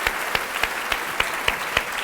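Rhythmic clapping in steady time from a studio audience on a Spanish TV word-game show, about seven sharp even claps in two seconds over a low hiss, with no voices.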